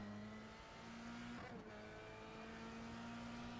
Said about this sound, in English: that car is low to the ground. You can hear it scraping.